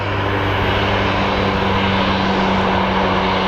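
American Airlines Airbus A321 arriving at Phoenix Sky Harbor from Ontario, a steady, loud engine drone with low humming tones holding constant throughout, no talk.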